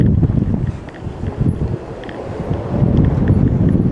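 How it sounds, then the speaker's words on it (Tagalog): Strong gusts buffet the microphone at an abandoned school building in Quezon City, with low, rumbling roars that swell and fade, growing heavier toward the end. "Wow, lakas ng hangin."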